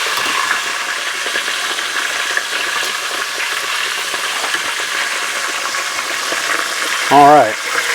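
Chicken fried steak sizzles steadily in hot oil after being flipped, a constant crackling fry throughout with a brief louder clatter near the end.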